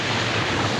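Steady, loud rushing water from a forest waterfall at Fota hill in Karbi Anglong, north east India, a continuous broadband roar with no breaks and no talking.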